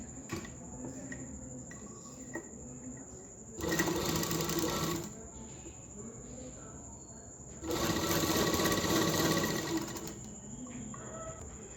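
A sewing machine runs a loose basting stitch along a kameez neckline in two steady bursts of a few seconds each, loud and close, with quiet pauses between and a faint steady hum throughout.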